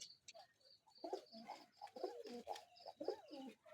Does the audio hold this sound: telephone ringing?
no